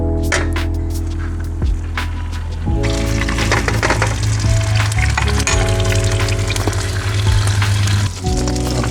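Jumbo frankfurters crisp up in a pan at a lakeside cook-up, a steady dense sizzle and crackle running throughout with a low droning hum beneath, fairly loud and close, with no talking.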